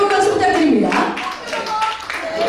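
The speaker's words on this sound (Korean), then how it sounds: "여러분들의 뜨거운 박수 부탁드립니다" An audience claps at a sixtieth-birthday celebration performance, warm sustained clapping that runs beneath someone speaking over a microphone with strong room echo.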